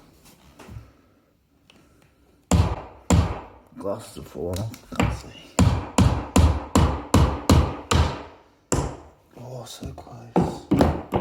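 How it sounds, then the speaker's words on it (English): A hammer drives a nail into a skirting board in a rapid run of about a dozen loud, close thuds after a quiet start, with a short break and a few more strikes while a person talks. "Hit a nail with a hammer."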